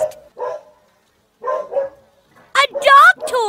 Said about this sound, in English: If it keeps barking, it might keep people and other animals from getting rest.